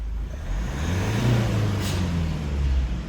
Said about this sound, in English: now let me rev the car